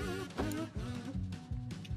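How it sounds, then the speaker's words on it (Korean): Bees buzzing in Minecraft, a steady droning hum with a pulsing, repeated rhythm that swells and dips about every quarter second, close and continuous with no talking. "어디서 윙윙 거려?"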